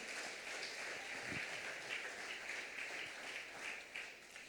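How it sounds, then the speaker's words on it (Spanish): A church congregation applauds during a Spanish-language sermon, a faint, steady patter of clapping that sounds distant and soft from start to finish. "Dale un aplauso al Señor"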